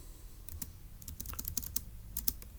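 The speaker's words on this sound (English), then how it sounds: "So let's go ahead and type that up" Quick bursts of typing on a computer keyboard, soft separate key clicks in an uneven rhythm, close and fairly quiet with no voice over them.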